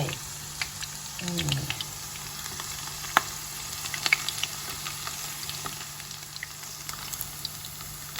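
Wild flowers and vegetables coated in batter fry in hot oil with a soft, steady sizzle. Small pops and clinks from a utensil are scattered through it, and a faint low hum sits underneath.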